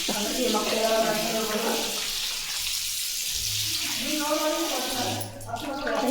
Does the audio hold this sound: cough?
no